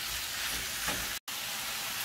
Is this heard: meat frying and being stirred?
yes